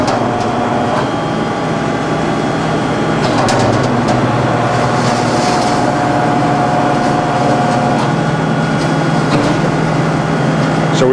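A 1970 Blanchard 20K-36 rotary surface grinder running a dry skim cut on its chuck, loud continuous machine drone with a steady hum and a whining tone partway through, alongside faint talk.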